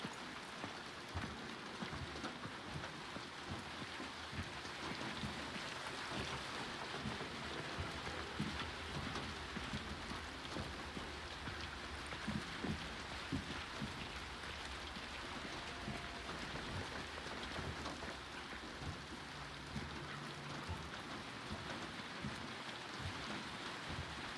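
Rain falls continuously in a video game, a soft, even hiss of drops drumming on surfaces around a building, faint and steady with no voices.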